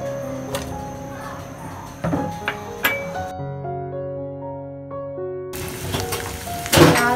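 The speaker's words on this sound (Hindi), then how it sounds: "सबसे पहले लेंगे 1 कप घी, घी गर्म होने के लिए रखा है। सबसे पहले डालेंगे प्याज" Onions frying in a cup of hot ghee for biryani, a crackling sizzle with occasional utensil clatter that stops briefly while soft music plays, then resumes louder.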